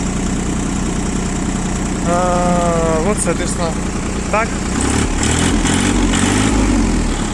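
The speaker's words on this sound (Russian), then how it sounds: "Я думаю, слышно по характеру работы двигателя, что все у нас здесь отлично с мотором" A 4WD three-cylinder 20 hp mini tractor with a soil tiller idles steadily with a low, even engine drone, while someone talks briefly over it and some short squeaky noises cut in midway.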